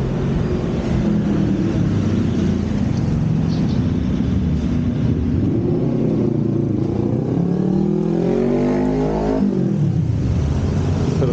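A motorbike taxi engine runs steadily close by in Manila, its low drone rising in pitch as it revs up near the end.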